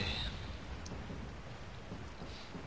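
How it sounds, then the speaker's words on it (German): Rain with distant thunder in the Resident Evil 4 Remake video game, a faint steady wash of falling rain with a low rumble, heard alone. "Ich glaube, draußen regnet's."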